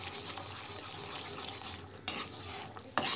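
Roasted semolina being stirred briskly into boiling water in a pot for suji upma, a steady close scraping and bubbling with a couple of sharper knocks near the end, no talking.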